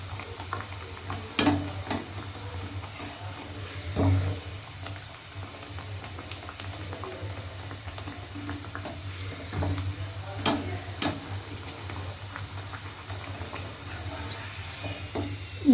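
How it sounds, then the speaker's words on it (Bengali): Bengali-style spicy kachori deep fry in oil, two pieces at a time, a steady low bubbling sizzle with occasional ladle clinks, close and moderate, no talk. "দু পিস ভালো করে এরকম ভাবে ভেজে"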